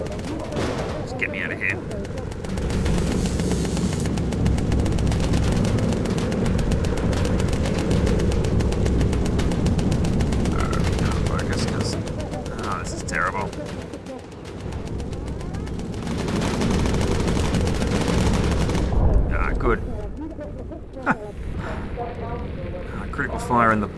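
Gunfire aboard a bomber in the game Bomber Crew during a D-Day raid on the Normandy beaches, dense continuous rattling under engine roar, with voices talking over it.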